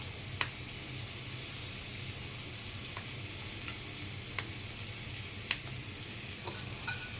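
Ginger, garlic and green chillies frying in a pan for a green banana and prawn curry, with a continuous sizzle broken by several sharp utensil scrapes and clicks as the mix is stirred.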